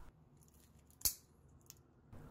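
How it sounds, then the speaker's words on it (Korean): Scissors make a single crisp snip through folded aluminium foil to sharpen the blades. The cut is close and sharp amid near silence, with a faint second click shortly after. "가위를 사용해 얇게 잘라주시기만 해도 가위의 날을 세우는데 아주 큰 도움이 된다고 합니다"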